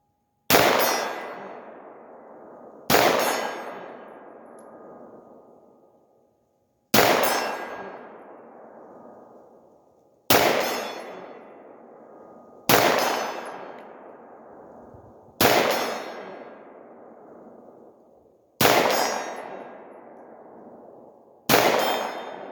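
Sharp metallic dings of bullets from a Palmetto PX-9 hitting a steel silhouette target at 50 yards ring out one at a time, about eight hits spread evenly, each with a long fading ring, with quiet between them.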